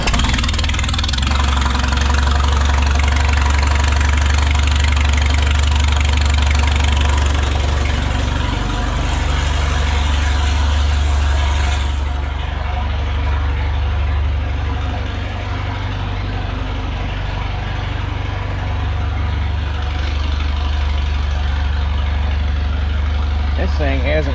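An Oliver 545 combine engine that has sat unused runs at a steady, deep, rough idle with some knocking. The sound is close and continuous, and someone talks intermittently over it.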